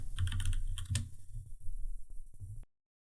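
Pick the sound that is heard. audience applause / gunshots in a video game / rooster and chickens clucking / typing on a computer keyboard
typing on a computer keyboard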